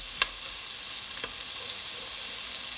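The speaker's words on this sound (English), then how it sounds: "So that's sizzling away nicely now." Constant bright sizzling of chorizo and onion in a pressure cooker pot, close and even, with a couple of faint clicks and no talking.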